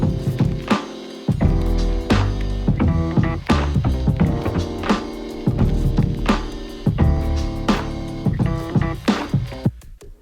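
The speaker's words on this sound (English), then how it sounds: "So after we've cleaned everything up with EQs, it sounds like this." A drum and bass beat with drums and keyboards, cleaned up with EQ in Ableton for a vintage lo-fi sample feel, plays loud and continuous with punchy, regular hits and no talking.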